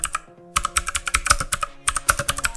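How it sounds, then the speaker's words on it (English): Clicky mechanical keyboard typing on Cherry MX Blue switches, close up, with rapid bursts of crisp key clacks separated by a short pause. "I'm just going to point the microphone at the keyboard so you guys can hear how amazing it does sound"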